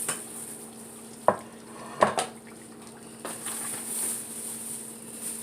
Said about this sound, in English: Stir all of our ingredients together